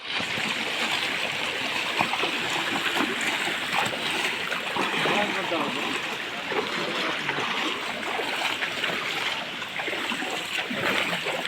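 People wade and splash through shallow river water at the Bucal river in Silang, Cavite, with continuous rushing, splashing water close by and voices faintly under it.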